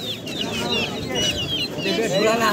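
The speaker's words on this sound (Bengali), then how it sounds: "এগুলা মুরগি, এটা মনে হয় মোরগ।" Native chickens and a rooster clucking at a busy livestock and bird market in Nadia district, close and lively, with repeated clucks and squawks under people talking.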